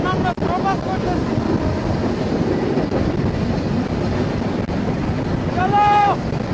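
Rupsa Express passenger train rumbling along near Shahagola station, heard from the carriage roof with a steady low roar, wind buffeting the microphone throughout and a brief horn-like tonal blast near the end.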